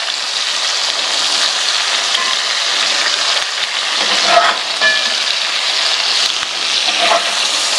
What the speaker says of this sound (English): Oh, there's a lot of grease coming out of this meat. Oh, it's browning up beautifully.